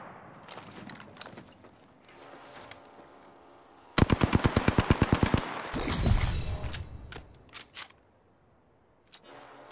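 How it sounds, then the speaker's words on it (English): Apex Legends gunfire: after some scattered distant pops, a loud, close burst of rapid automatic fire with evenly spaced shots runs for over a second, followed by an impact crash, then fades to a few isolated sounds. "I'm taking fire."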